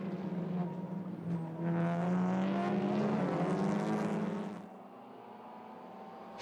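A Volkswagen Golf TCR race car at Monza howls at full throttle, its engine note rising steadily through a gear before cutting abruptly to a quieter whine, loud and alone with no voices.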